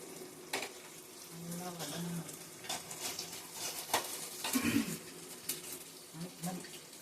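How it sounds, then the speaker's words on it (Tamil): Shallots, garlic and curry leaves sauté in a pan for fish curry, giving a quiet sizzle broken by scraping stirs and occasional clinks of a utensil against the pan. "சின்ன வெங்காயம் பூண்டு கருவேப்பிலை மூணும் போட்டு வதக்கிட்டு"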